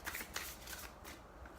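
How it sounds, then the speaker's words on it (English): Tarot cards being shuffled by hand, a soft, close riffling patter with quick papery flicks over under two seconds, fairly quiet. "So that's why I don't like shuffling on camera. It takes me forever."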